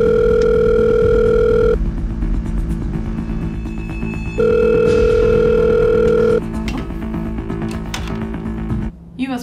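A telephone handset gives a steady, loud dial tone that runs for a couple of seconds, stops, then returns, with a low rumbling background beneath it and a brief clatter at the end.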